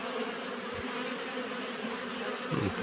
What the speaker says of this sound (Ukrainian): І здається, з цього вулика чути, як матка десь там співає.